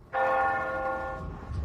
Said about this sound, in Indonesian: Ini, suara lonceng ini.